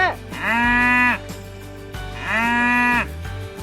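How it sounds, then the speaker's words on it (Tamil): A cow moos twice, each call long, loud and close, with a short pause between them. "மூணு நாள் அக்கம் பக்கத்துல யாரையும் தூங்க விடாம பசுமாடு இப்படி கத்திக்கிட்டே இருக்க"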